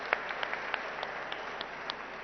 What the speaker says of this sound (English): which I think deserves a huge round of applause to the entire team of Shankara